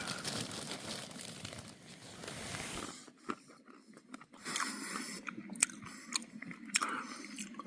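A crinkly bag of trail mix rustles loudly up close, then quieter chewing and crunching follows with scattered sharp crinkles, out on a Pacific Crest Trail thru-hike.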